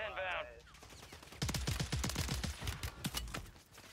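Rapid gunfire from the Warzone 3 video game on Rebirth Island crackles in a dense burst of close shots, following a short electronic tone at the start, with no talk over it.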